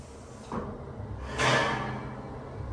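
Clanging from the door equipment of a Dover Oildraulic EPCO hydraulic freight elevator at a shopping mall: a soft knock, then a louder broad metallic clang that rings and fades, heard in a reverberant space.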